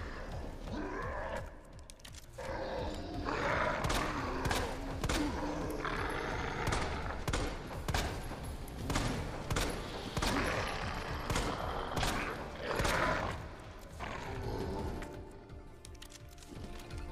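Repeated gunshots in Resident Evil 2 Remake, a steady series of sharp close reports spread across the stretch with game ambience and clatter between them.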